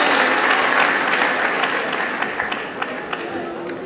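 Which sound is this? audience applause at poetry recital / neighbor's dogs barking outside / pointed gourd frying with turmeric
audience applause at poetry recital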